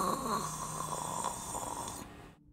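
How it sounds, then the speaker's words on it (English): A small creature snores with a gravelly rasp, one soft, rough breath that fades into silence near the end. "Starts to snore, and it sounds like gravel."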